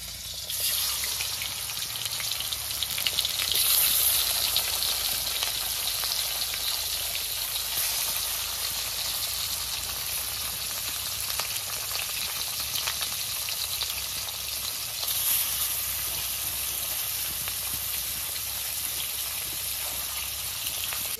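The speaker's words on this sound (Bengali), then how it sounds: "তেল গরম হয়ে গেছে, আমি এখন ইলিশ মাছ ভাজা বসাই দিলাম।" Salted, turmeric-rubbed hilsa fish fry in hot oil during a rainy day in the Sundarbans, giving a steady, close sizzling hiss with light crackles throughout and no talk.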